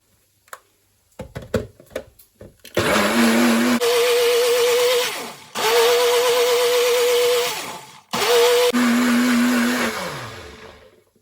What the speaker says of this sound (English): So I'm going to cover this now and quickly blend it because I'm going to add it to my beef.